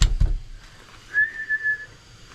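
A person whistles one sustained, steady note of under a second, clear and fairly close, after a couple of soft knocks nearby.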